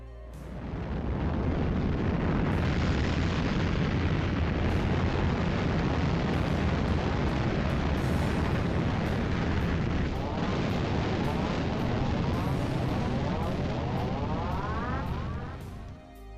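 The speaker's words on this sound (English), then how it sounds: "the station has some kind of an emergency that causes it to suddenly explode" A space station blows up in the 1986 science-fiction film Star Crystal, a loud, sustained roaring blast that fills the whole stretch, with crackling bursts and rumbling debris before it cuts off abruptly.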